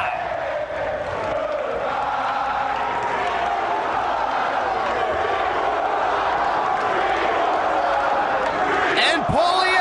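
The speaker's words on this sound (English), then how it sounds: "The crowd chanting three more times." A large wrestling crowd at the ECW Arena chants and roars continuously, loud and dense from all around, with a sharp burst of noise just before the end.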